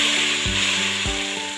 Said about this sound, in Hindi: ये देखिए माशाल्लाह से मेरा तड़का जो है ना फ्राई हो रहा है।